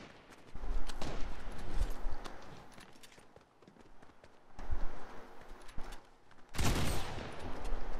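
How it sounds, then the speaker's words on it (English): Fortnite Battle Royale gunfire in bursts and rapid volleys, loud and close, with crackly shots clustered in several waves amid game noise. "Oh, Jenna's shooting him."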